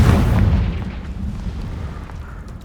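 A Confringo spell explosion in Hogwarts Legacy, a heavy booming blast that hits hard at the start and then rumbles away and fades.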